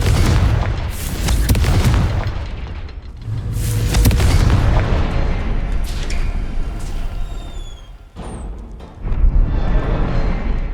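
Spell effects in Hogwarts Legacy: a fire spell, a repulsion spell and an explosive spell, cast in succession, give loud booming blasts and rumbling bursts, with brief whooshes and a final sharp impact.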